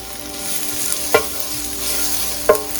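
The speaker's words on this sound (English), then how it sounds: "Just go ahead and stir fry them quickly on high for about 30 seconds to a minute." Onions, dried red chilies and garlic stir-fried quickly on high heat, a steady close sizzle broken by two sharp spatula scrapes against the pan.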